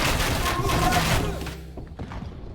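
Heavy booming bombard cannon blasts rumble through a dense, noisy Age of Empires II: Definitive Edition soundscape, several thuds overlapping up close, with voices faintly mixed in.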